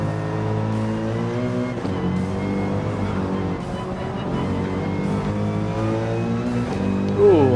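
Mercedes AMG race car from Gran Turismo 7 holds a loud, steady engine drone with strong harmonic tones that rise and shift, a rev climbing sharply near the end, close and continuous with no talk.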